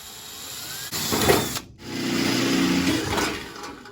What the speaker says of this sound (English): We're gonna drill these holes now